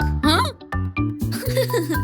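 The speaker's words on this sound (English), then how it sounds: "It's a pig." A short series of playful pig oinks, close and fairly loud, mixed with a child-like voice and bright tinkling tones in a toy or cartoon style, from a children's nursery rhyme surprise-egg show.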